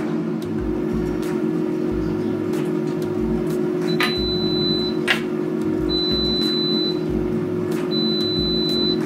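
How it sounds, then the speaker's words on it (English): An air fryer cooking a batch of fries hums with a steady low drone, with a few faint clicks and a periodic high electronic tone sounding near and alone. "Now it's air frying."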